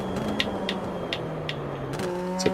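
Racing car engine in the Rennsport driving game, a steady low drone with brief rises in pitch, heard alone with no talk.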